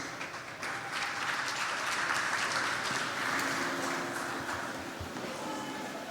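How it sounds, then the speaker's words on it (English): Audience applause at a startup pitch event in Malta, a steady broad wash of clapping that holds for several seconds without a break. "A big warm round of applause"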